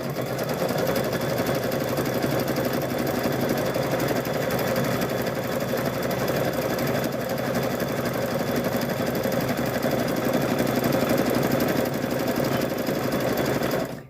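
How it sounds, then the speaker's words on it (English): A sewing machine runs steadily for the whole stretch, stitching patchwork quilt fabric with a continuous close mechanical whir and no talk over it, cutting off right at the end. "So that way we can just keep stitching here."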